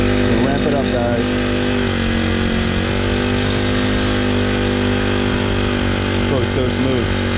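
A Honda 35cc motor driving a Hobie pedal-drive kayak drones steadily and loudly throughout, a smooth even hum with faint voices briefly audible over it.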